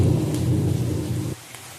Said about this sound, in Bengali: দেখো আমাদের এখানে বৃষ্টি হচ্ছে খুব জোরে